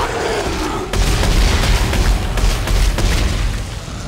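Partner's gunfire in the video game Dead Space 3, a dense, loud roar of booming shots and rumbling bursts that surges after a short lead-in and holds steady, with no talking.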